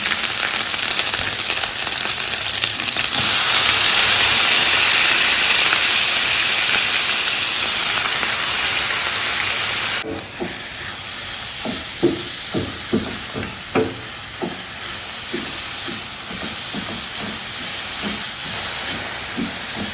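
Rice hitting a pan of sizzling coconut green curry sauce: a loud, steady frying hiss, then a drop in level with scattered crackles and stirring scrapes as cooking carries on.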